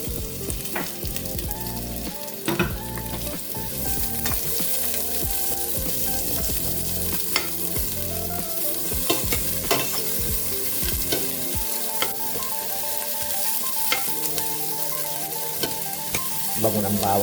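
Onion and garlic frying in a pan for kare-kare, with a continuous sizzle and repeated stirring and scraping clatters throughout. No one speaks.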